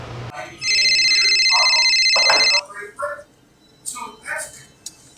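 A telephone on an outgoing call gives a steady, bright ringing tone for about two seconds, then stops, followed by voices speaking nearby.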